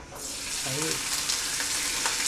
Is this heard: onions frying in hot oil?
yes